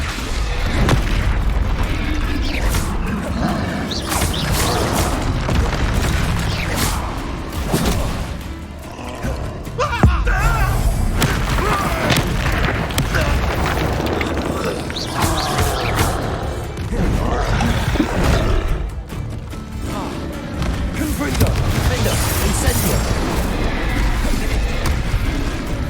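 Repeated booming fire-spell explosions from Confringo casts in Hogwarts Legacy, loud and continuous, with rumbling blasts layered over dense combat noise for the whole stretch.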